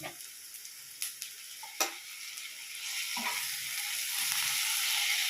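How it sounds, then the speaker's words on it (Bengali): Onion frying in a pan with a spoonful of ginger-garlic paste for a fish roe fritter curry; a few clinks of stirring give way to a loud, steady sizzle that builds and holds. "পেঁয়াজটা আমি হালকা করে ভেজে নিয়েছি। এর মধ্যে দিয়ে দিচ্ছি 1 চামচ আদা রসুন বাটা"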